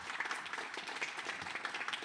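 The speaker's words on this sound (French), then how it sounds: "Je pense qu'on peut applaudir tous les intervenants" A conference audience applauds the speakers, a soft, fairly quiet, continuous patter of many hands clapping for a couple of seconds.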